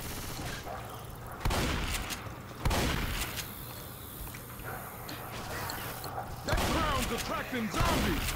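Bursts of submachine gun fire from the Left 4 Dead 2 zombie shooter crackle out in several loud volleys over a busy game soundscape, with a person talking throughout.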